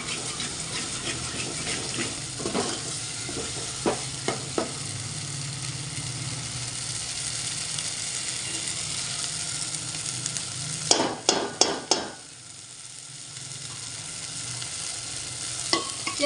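Ground masala, with a splash of hot water added, fries and sizzles in oil in a pan for a spicy amti. A steady, close hiss continues throughout, broken by a brief clatter of stirring near the end.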